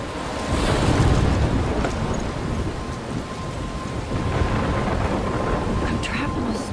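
A thunderstorm in the video game Life is Strange: dense, steady rain hiss with deep rumbling thunder rolling underneath, loud and continuous throughout.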